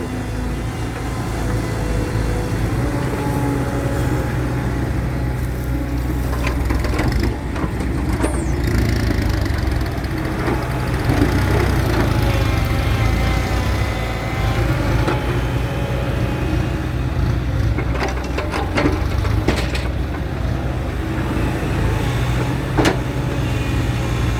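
A Komatsu PC100 excavator works through lava rock and mixed soil under a hot sun, its diesel engine droning steadily throughout while scattered scraping and knocking of bucket on stone rises intermittently over the continuous rumble.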